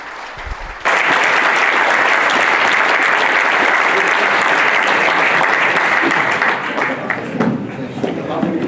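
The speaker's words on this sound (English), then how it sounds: "If you could give them a round of applause" An audience at a panel event on net zero in Massachusetts breaks into dense, sustained applause for the panelists after a short spoken thanks, the clapping loud and even before it thins slightly toward the end.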